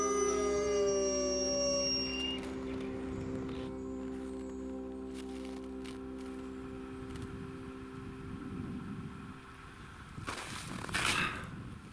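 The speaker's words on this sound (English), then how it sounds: "the voices of howling wolves from the speaker sounded twice one more time" Recorded wolf howls played from a loudspeaker outdoors, long drawn wavering tones gliding down and fading over about two seconds, followed by a quiet wooded background and a brief rustle near the end.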